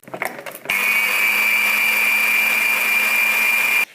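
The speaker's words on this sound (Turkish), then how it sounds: "Yumurtamız şöyle köpük köpük olana kadar yumurta ile şekerimizi çırptık." An electric mixer whisks eggs with sugar until foamy: a brief clatter, then a loud, steady motor whine that runs unbroken for about three seconds before cutting off.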